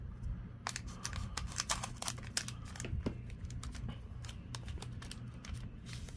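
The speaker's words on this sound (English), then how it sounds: "I have scissors" Scissors snip and crinkle through the foil wrapper of a Yu-Gi-Oh 25th Anniversary premium pack: a close run of sharp, irregular cutting clicks and crinkles over a low steady hum, with no talking.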